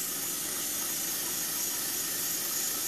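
A cheap airbrush spraying paint onto a model railroad flatcar, a steady soft hiss of air and paint mist held evenly throughout without talk.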